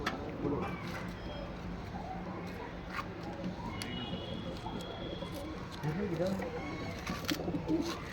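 Pigeons coo softly in low, rolling calls with a few faint flutters, while someone talks over them throughout.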